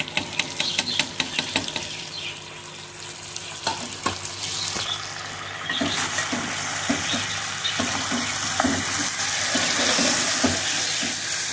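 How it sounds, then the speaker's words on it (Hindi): Tomatoes frying for mutton kadai, a loud continuous sizzle with scraping stir strokes and wet bubbling as they cook down in the pan, growing denser and steadier toward the end. "अब हम इसमें डालेंगे टमाटर और टमाटरों को हम अच्छी तरह से भूनेंगे"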